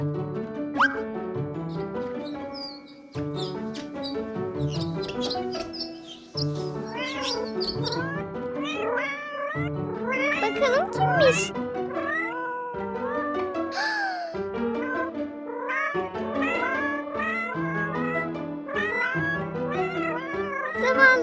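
Several cats meowing repeatedly, overlapping cries and drawn-out wails rising and falling, loud and close throughout.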